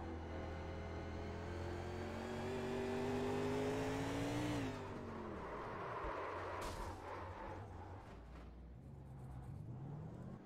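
Race car engine from an onboard cockpit camera, a loud sustained drone that climbs in pitch and then drops sharply as the throttle comes off, followed by rougher, lower running with a few sharp cracks.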